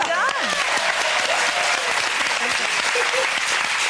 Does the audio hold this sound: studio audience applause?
yes